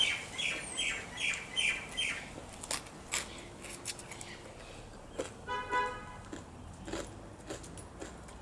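A crow caws in a rhythmic run of about five harsh calls at close range, followed by scattered chirps and clicks in a quiet outdoor setting.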